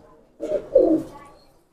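A Teddy pigeon, a pet game pigeon, gives two soft, low coos close up, the second slightly stronger, in a quiet setting.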